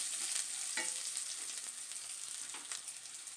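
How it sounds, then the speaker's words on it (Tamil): Raw banana and onion sautéing in a pan, a soft continuous sizzle with occasional stirring scrapes, quiet and close, with no voices. "நல்லா இதை வதக்கி விட்டுடுங்க"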